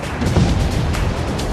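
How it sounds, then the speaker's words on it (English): Deep, rumbling booms roll continuously as a low, heavy roar, distant and sustained without any talking. "Enormous explosions in the distance have rocked the ground we're standing on"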